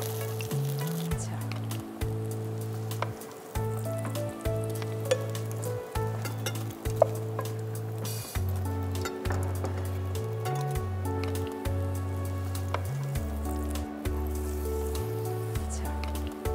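Food sizzles as it is lightly fried and tossed in a pan, a steady crackle running under a sustained droning hum, with scattered clinks and scrapes of stirring throughout.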